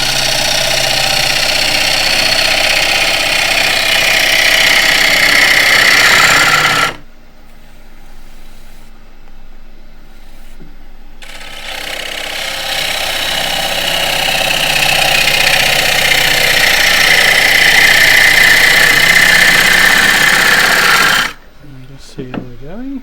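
A wood lathe turns an embellished bowl while a tool cuts with its bevel rubbing, giving a loud, steady whirring hiss that stops briefly, then returns and runs evenly before cutting off again.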